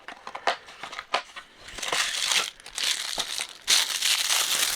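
Plastic accessory bag from a G.I. Joe action figure crinkling and crackling in bursts as it is handled, close and fairly loud with brief pauses, no voices.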